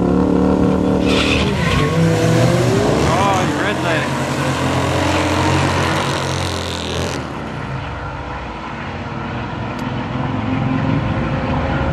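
A pickup truck at a drag strip test-and-tune night revs hard and launches against another car, its loud engine roar rising then fading into a quieter rumble as the run pulls away.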